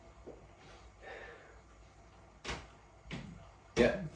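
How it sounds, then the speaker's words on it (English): Creaky wooden floorboards upstairs give a few spaced, muffled creaks and thumps under footsteps, distant and faint beneath a quiet room with a little background talk. "Yeah, there's some creaky floorboards."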